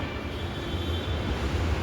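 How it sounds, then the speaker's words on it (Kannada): A steady low rumble and hiss of a moving metro train, continuous and fairly loud, with no voices. "ಇವಾಗ ಮೆಟ್ರೋ ಬಂತು, ಮೆಟ್ರೋ ಹತ್ತಿದ್ದೀವಿ ನೋಡಿ"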